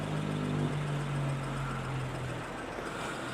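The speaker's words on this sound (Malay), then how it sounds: "Lepas ni kereta kena masuk reverse je." Toyota GR Yaris engine idling low and steady while the car is put into reverse, a close, even rumble that holds throughout and eases slightly near the end, with no voices.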